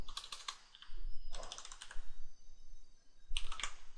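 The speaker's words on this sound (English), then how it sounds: "Type the password again." Password being typed on a computer keyboard while setting up a virtual machine on Windows: a few short bursts of quick, close key clicks separated by brief pauses.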